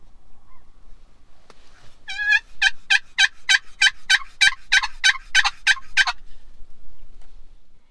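A wild turkey gobbles in a rapid run of about a dozen harsh, evenly spaced notes, clear and fairly close, with quiet outdoor South Dakota air before and after.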